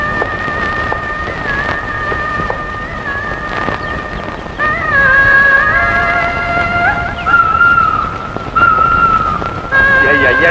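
A horse is turned around on a road, with whinnies and hoof clops mixed under people talking and tonal background sounds, growing louder partway through.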